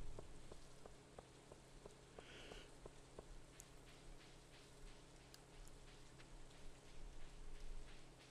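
Rain in the farming video game Stardew Valley, a quiet, steady patter of drops with scattered sharper ticks of single drops landing close by, heard on its own.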